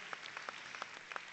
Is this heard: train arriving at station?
no